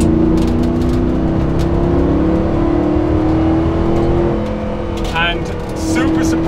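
A Porsche 911 Sport Classic drives a mountain pass, its engine holding a loud, steady droning tone throughout with slight swells in pitch and a brief higher sound near the end.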